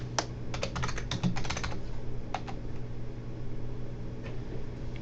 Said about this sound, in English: we're going to add a course, and we just type it in